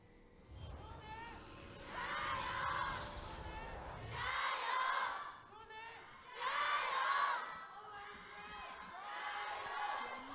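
Crowd at an esports stadium shouting and cheering during a League of Legends LPL match, Suning vs. Oh My God, with several waves of loud massed voices swelling and fading, close and reverberant, with no commentary over it.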